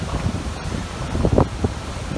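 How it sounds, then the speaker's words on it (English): Strong gusty wind on a Boracay beach buffets the microphone in uneven rumbling bursts, with faint surf-like wash underneath. "Very windy today."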